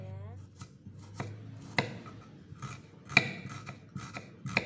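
A knife chops shallots and garlic on a cutting board, giving a series of quiet, irregular taps and thuds close up in a calm kitchen, with a faint tone at the very start.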